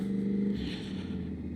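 A motorcycle engine hums close and steady on a morning ride, rising slightly in a short rev before settling back.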